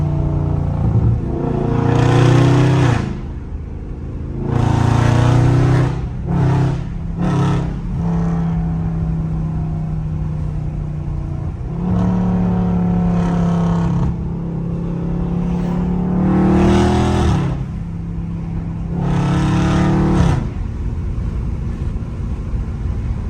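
A Scat Pack car downshifting in traffic, its engine rising and falling through several loud revs and throttle blips over a steady, rumbling drone.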